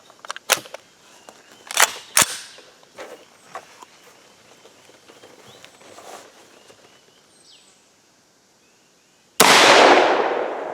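A 300 Blackout rifle fires a handload of 10.7 grains of Accurate 1680 under a 194-grain Lehigh Defense Maximum Expansion bullet: a single loud, sharp blast near the end, preceded by scattered handling clicks and a short near-silent pause.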